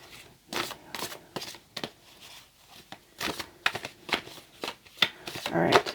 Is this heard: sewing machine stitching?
no